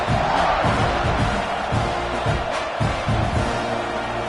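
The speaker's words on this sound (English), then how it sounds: "this crowd now ready to get behind them" Stadium crowd in a football video game, a loud continuous roar with rising cheers and whoops before a kickoff, close and dense with no talk over it.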